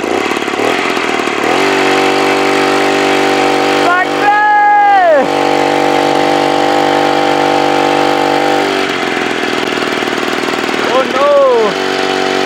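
A homemade motorized bicycle with a 2-stroke 35cc engine runs loud and close, a steady buzzing drone that rises sharply in revving bursts, while a person exclaims briefly over it.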